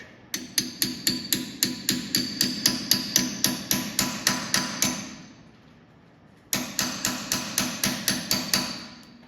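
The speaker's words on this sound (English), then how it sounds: "Pound that down in there, and that'll lock that nut up." A punch is hammered into the crankshaft grooves to lock the nut on a two-cylinder John Deere tractor: fast, evenly spaced metallic strikes, about twenty in a row, then a short pause and another burst, close and ringing.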